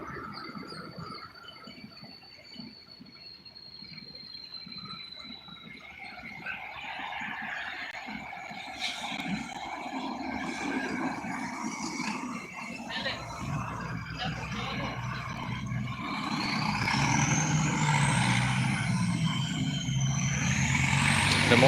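MPM bus pulling into Alang Alang Lebar bus terminal in Palembang: engine noise builds and grows louder as it approaches, with an air-brake hiss and a rising whine, under a voice speaking.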